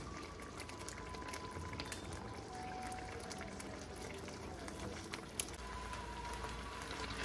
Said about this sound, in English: Our sauce has been simmering, and I am ready to put in our pork meat.